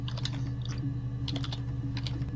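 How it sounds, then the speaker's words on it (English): Keyboard typing in the video game Her Story, quick bursts of close, crisp key clicks in an irregular rhythm over a steady low hum. "why does the noise on the keyboard have to be so creepy?"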